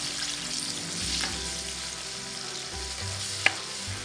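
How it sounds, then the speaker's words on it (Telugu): Onion paste frying in oil for a paneer curry, with a steady close sizzle, stirring scrapes and one sharp utensil tap near the end. "ఇప్పుడు ఇందులోకి మనం ముందుగా అరుగు పెట్టుకున్న ఉల్లిగడ్డ పేస్ట్ వేసుకుందాం వేసుకొని కలుపుకుందాం"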